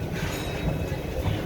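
Ore-car roller coaster trains of the River King Mine Train at Six Flags St. Louis rumble along steel track, a continuous loud clattering roar with no distinct breaks.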